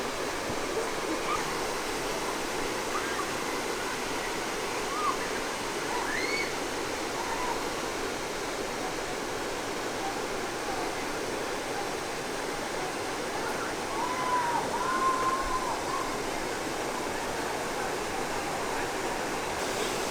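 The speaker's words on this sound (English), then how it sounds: "This is where the river comes out of the main shut-ins." A river rushes out of rocky shut-ins, a steady, even roar of water heard from an overlook, faint and unbroken throughout with no talk over it.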